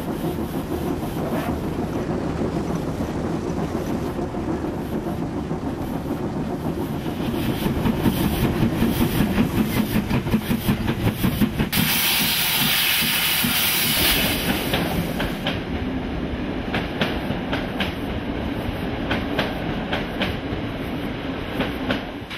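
A steam locomotive runs on the Mariembourg–Treignes line 132, with a loud continuous rolling rumble and rhythmic clickety-clack of wheels heard from on board, plus a burst of hissing steam partway through.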